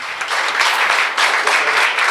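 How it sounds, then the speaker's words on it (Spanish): Strong applause from a church congregation during a sermon, a loud, continuous rush of clapping that swells and dips slightly over a couple of seconds. "¿Tú le puedes dar un fuerte aplauso a estos revestidos de autoridad?"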